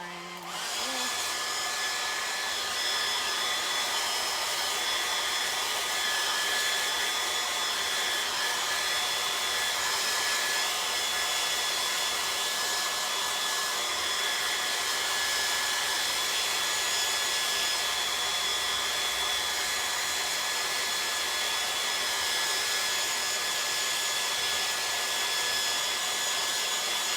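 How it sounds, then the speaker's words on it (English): A blow dryer runs continuously to dry paint in an art studio, a steady loud whirring hiss that holds unbroken throughout with no pauses. "Can you hand me the blow dryer, please?"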